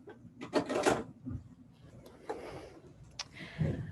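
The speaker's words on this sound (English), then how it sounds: "Let me pull out my tray here." A plastic tray slides and clicks out of a machine, a few short scraping and knocking sounds close by in a quiet room.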